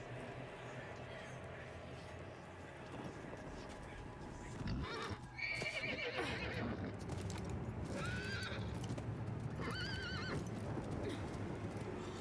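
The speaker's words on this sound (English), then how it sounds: "Horse run away." Horse neighing and whinnying in the video game Diablo 4, several short whinnies with hoof clip-clops over a steady game background, fairly close and clear.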